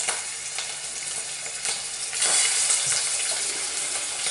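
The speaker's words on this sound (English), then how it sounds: "Hear that sizzle?" Steady crackling sizzle of squirrel meat frying in a hot pan, close and continuous, growing slightly louder partway through, with no voices.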